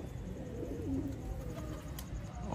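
Pet pigeons cooing softly, with a couple of low, rounded coos over a faint background murmur.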